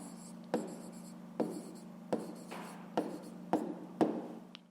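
Pen writing a math answer on paper, six short scratchy strokes at a steady rhythm, each a quick scrape that fades, close and quiet over a low hum.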